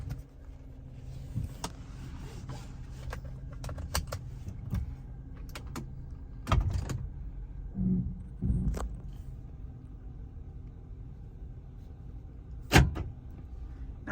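A 2007 Mercury Grand Marquis in showroom condition driving, with a steady low cabin rumble and road noise, broken by occasional clicks, thumps and a couple of louder knocks.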